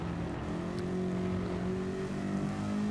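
A supercharged race car in a racing video game drones steadily and loudly throughout, its engine note holding fairly even with a continuous whining tone layered over it.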